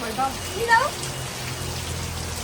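Heavy rain falling steadily in a residential lane, a constant hissing patter at moderate level, with a voice speaking briefly over it near the start.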